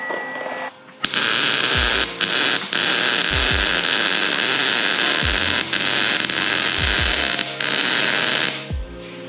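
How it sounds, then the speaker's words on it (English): Arc welding on metal, a beginner running a bead: a steady loud crackling hiss that runs for about eight seconds with a few brief breaks, then cuts off, with low thumps at intervals. "You're welding stuff together."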